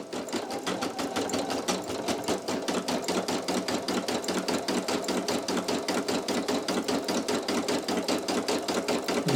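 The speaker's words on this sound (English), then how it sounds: "this machine sews up to 650 stitches per minute" A Brother PE800 embroidery machine stitches a design onto a towel, its needle pounding out a fast, even rhythmic chatter at close range throughout.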